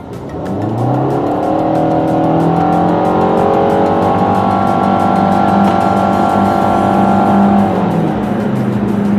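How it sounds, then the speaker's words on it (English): 2013 Nissan Altima SV accelerating hard, the engine note climbing steadily and loudly for several seconds after a brief quiet start, then holding a strained, rising drone without any speech over it. "I'm going to gas it right now. Watch the speed."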